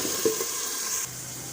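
Chicken pieces frying in a pan for a chicken curry (salan), giving a steady close hiss of sizzling oil that drops slightly in level partway through, with faint stirring clinks and no talking.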